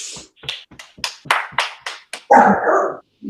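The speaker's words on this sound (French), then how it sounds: "C'est qu'un chien." A dog barks in a quick series of about nine sharp, close barks, then gives a longer, louder yelp or growl near the end, heard during an indoor tai chi and qi gong session.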